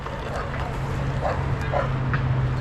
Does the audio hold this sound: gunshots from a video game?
no